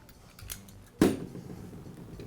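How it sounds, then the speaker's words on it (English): A blade slices through a sticker on the rear of a Milwaukee impact wrench housing, a faint scrape followed by one sharp, close snip-like cut, then quiet handling noise. "There's a sticker at the rear of the housing I'll cut in half."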